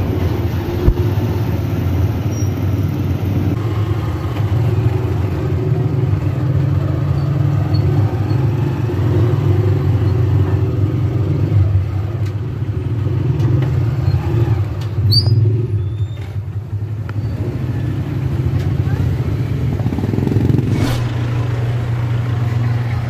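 A motorized tricycle rides through Manila traffic, with a steady low engine drone and road rumble running throughout, and faint passing vehicle noise around it.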